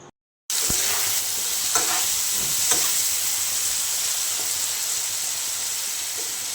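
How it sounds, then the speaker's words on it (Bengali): Ginger, garlic, onion, tomato and spices sauté in a pan with boiled chana dal and peas for tadka, a loud continuous sizzle with occasional stirring scrapes, close up and uninterrupted after a brief silent start. "যে মশলাগুলো দেখিয়েছিলাম সব দিয়ে কষে নিচ্ছি"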